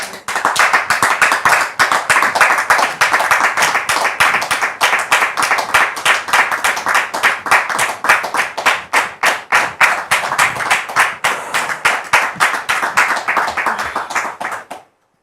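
An audience claps steadily to welcome a newly married couple with a child onto a stage, dense, loud hand claps holding a fast rhythm throughout before thinning slightly near the end.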